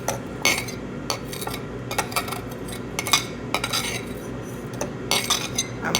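A metal utensil scrapes and clinks steadily against a cutting board and cooking pot while cut potatoes are scooped in for potato salad, a busy close rhythm of short scrapes and knocks with no talking.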